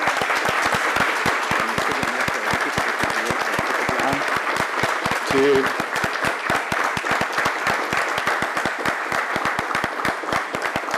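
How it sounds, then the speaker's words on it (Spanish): A large audience gives a sustained, dense round of applause at a tribute ceremony in Costa Rica honouring Dr. Fernando Mora Rojas, steady and close for the whole stretch, with a brief voice heard over it. "Rindámosle un caluroso aplauso"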